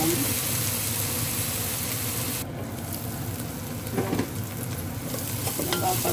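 A biryani mixture is stirred in a pot, giving a continuous close sizzle with soft scraping and a few louder clinks near the end.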